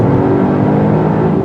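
A 2020 Volvo XC90 T8 plug-in hybrid SUV accelerating hard, with a loud, steady engine drone and a whirring tone heard from inside the cabin and no voices.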